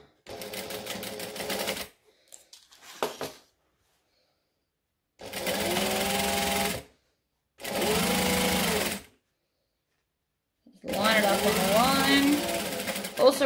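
A sewing machine stitches a bag with binding in four loud bursts separated by silent pauses, its motor whirring steadily during each run, with a voice speaking over the final burst.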